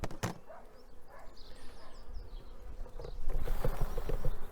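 Honeybees buzz steadily around an opened hive during a colony inspection by a beekeeper, a dense close swarm hum with sharp rustles and thumps of frames being handled, growing louder toward the end.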